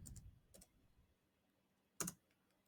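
A computer keyboard clicked in a few sparse keystrokes, a short cluster at the start and one sharper tap near the end, quiet and close with no talking.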